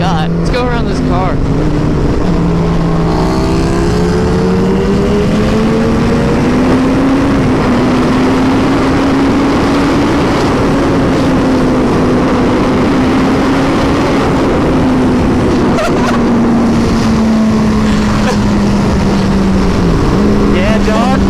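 A 300 WHP motorcycle engine roars loudly and steadily at speed, its pitch rising and falling gently with the throttle, over constant wind rush.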